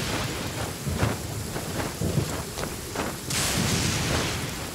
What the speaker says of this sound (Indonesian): Gila ini hujannya, hujan badai ini parah.